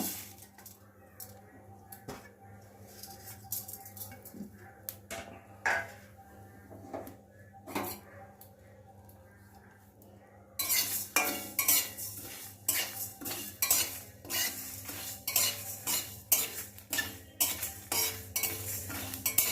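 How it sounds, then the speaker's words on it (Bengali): Ingredients dry-roast in a hot, dry wok, a spatula clinking and scraping against the metal in irregular knocks, quieter at first and then louder and busier with a faint hiss underneath. "শুকনো কড়াতে আগে ভেজে নেব।"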